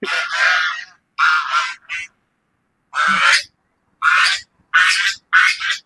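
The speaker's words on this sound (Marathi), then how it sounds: "बदक वरडू लागले ती, घाबरा लागले ती" Ducks at an outdoor farm-style leisure spot honking and quacking in alarm, loud and close, in several short bursts of harsh calls separated by brief silences.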